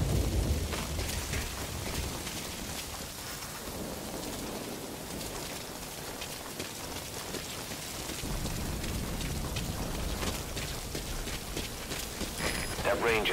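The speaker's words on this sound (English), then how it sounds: "That rain just won't let up." Heavy rain falls steadily in the video game Metal Gear Solid V: Ground Zeroes, a dense, continuous hiss of drops with faint low rumbles beneath, holding even across the whole stretch.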